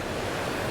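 Fast-running, high river water surges past a private bridge on a high-country station in Victoria, a dense, steady rushing roar that stays loud and close with no voices.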